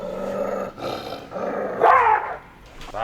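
A person imitates dog barking and growling in a song, with rough bark-like vocal bursts repeated across the passage over a musical backing, the loudest yelp near the end.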